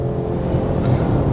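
A Mercedes E 300 e 4MATIC plug-in hybrid accelerating hard from a standstill on winter tyres, a steady loud drive roar and whir building in the cabin throughout, with no voices.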